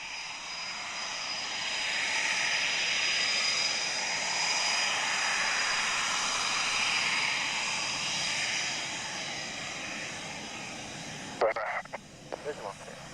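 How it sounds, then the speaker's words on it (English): A jumbo jet takes off in the distance, a broad steady roar that swells and slowly fades, with brief sounds from a person nearby at the end. "I can certainly hear that jumbo jet taking off right now"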